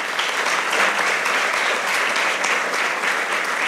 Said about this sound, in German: Applaus für euch.